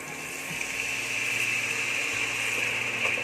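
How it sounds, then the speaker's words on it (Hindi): Water poured into a simmering pan of muchi kadhi, a traditional UP-Bihar curry, gives a steady rushing, hissing wash that runs unbroken and fairly close throughout. "अब हम इसमें डाल देंगे थोड़ा सा पानी"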